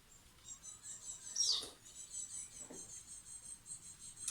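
Sparrows and other birds singing on a morning, heard as faint, distant high chirps and twitters over a quiet background, with one slightly louder burst of calls.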